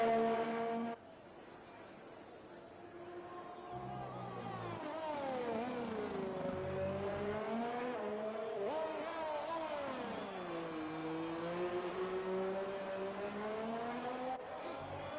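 An F1 race car engine on an out lap in a racing video game at Mexico, a steady high-pitched drone rising and falling through gear changes, sustained and fairly close for the whole stretch.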